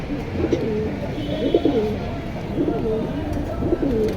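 A pair of pigeons offered for sale coo in repeated low, throaty bursts close by, about four rolling phrases in a few seconds, heard under a voice talking.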